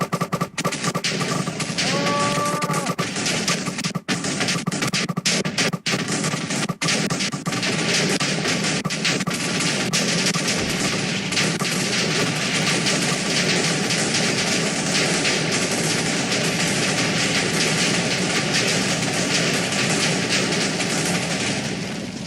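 Rapid chains of Minecraft TNT explosions from a modded Revolution charge, a dense, continuous roaring blast texture with sharp cracks early on, loud and sustained for over twenty seconds.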